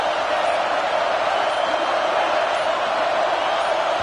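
Loud, steady roar of a football stadium crowd during a tense fourth-down play, a dense continuous wash of voices filling the whole clip without breaks.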